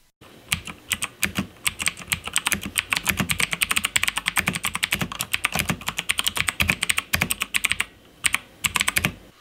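Rapid, uneven typing on a Rosewill RGB80 mechanical keyboard with clicky Kailh blue switches: a dense run of sharp, close-up clicks and clacks with brief pauses, no voices.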